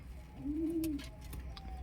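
A single soft coo from a black pigeon in a loft rises and falls briefly over low background hum, with faint clicks around it.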